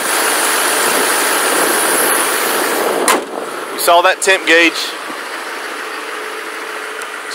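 A 2008 Chevrolet 2500HD 4x4 with a factory 6.6L Duramax diesel engine and stock exhaust idles steadily after a cold start, a loud, close rumble that continues under someone talking in short bursts.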